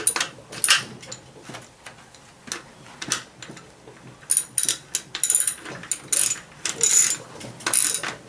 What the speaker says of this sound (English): You'll go ahead and you'll lock the lug nuts in the back down.